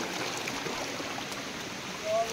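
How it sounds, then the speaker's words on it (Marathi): Water falling steadily inside a cave, a constant close splashing rush like a small stream, continuous and moderately loud for a couple of seconds. "फक्त पाणी पडतं"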